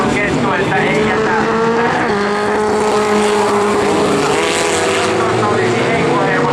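Race cars, including an Opel, on a Finnish dirt-track racing final at Suonenjoki, their engines roaring loudly and continuously with rising and falling revs, while a commentator talks over the noise.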